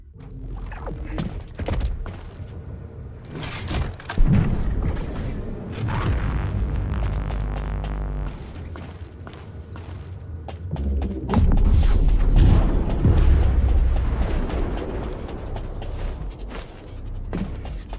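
Rocket launcher blasts in the shooter game The First Descendant, heavy booming explosions at irregular intervals, with a strong burst near four seconds and a loud, sustained rumbling barrage from about eleven to fourteen seconds, alongside mechanical clanks.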